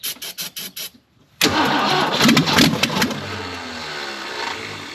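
A long-dormant AMC Gremlin, off the road for 40 years, cranks with a few rhythmic starter bursts, pauses, then catches and roars to life, revving loudly before settling into a rough idle.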